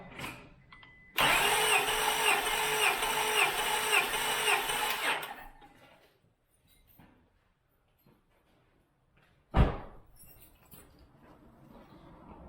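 A 2000 Acura 3.2 TL engine cranks loudly at wide open throttle during a compression test, a rapid, even chugging for about four seconds, then stops, followed by quiet and a sharp clunk.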